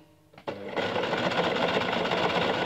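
A sewing machine starts up and stitches steadily back and forth across a wire headband, a loud continuous mechanical whir close by after a short click.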